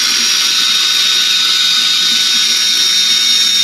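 A power drill runs steadily inside a wooden segmented vase during a detail turning demonstration, giving a loud, continuous high whine that holds without a break and has no talk over it.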